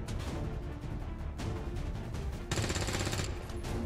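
Gunfire in the video game XCOM 2 erupts in rapid automatic bursts, dense and continuous, growing louder and harsher toward the end with no voices over it.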